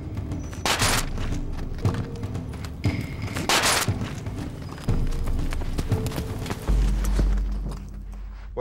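A horse gallops through a timed mounted weapons course, its hoofbeats pounding steadily and broken by sharp, loud impacts, with no voices.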